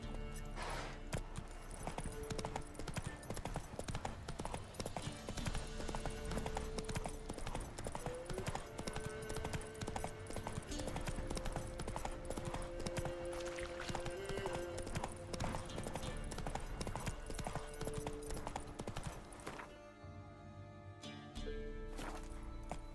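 A horse gallops in The Witcher 3 with a steady, fast clip-clop of hooves, loud and close, over a dense layer of game music and ambience, briefly thinning near the end.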